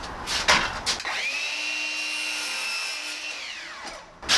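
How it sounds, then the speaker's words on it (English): Power saw trimming the bottom end of a wooden door casing, a loud whining cut lasting about three seconds, spinning up and winding down between short clatters of handling. "So whenever you're installing casing, you got to trim both ends."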